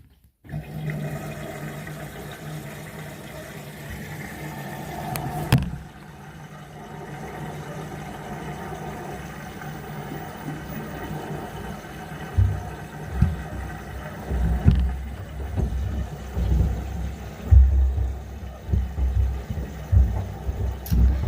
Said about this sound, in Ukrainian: Машинка набирає воду.